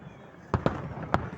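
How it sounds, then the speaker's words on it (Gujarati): New Year fireworks bursting over Toronto: three sharp, booming cracks, two close together and then a third, standing out above a low background murmur. "અસલ ફટાકડા તો અહીંયા ફૂટે છે"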